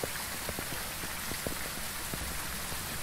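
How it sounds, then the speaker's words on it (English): Rain falls in a steady broadband hiss, with scattered close drops tapping sharply on a surface at irregular moments, alone and without voices. "Oh, the rain."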